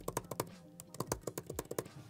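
Typing on an iPad Pro Magic Keyboard, a quick run of soft, close keystrokes in uneven bursts with short pauses between clusters, no voices over it.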